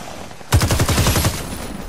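Rapid gunfire from slide shots in Warface on Nintendo Switch: a sudden burst of fast automatic shots rattling in quick succession, loud and close, continuing to the end.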